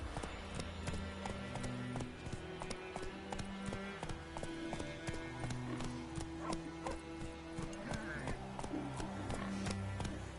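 Roach, the horse in the video game Witcher 3, gallops in a fast, steady clip-clop of hooves under game music, with an occasional voice over it.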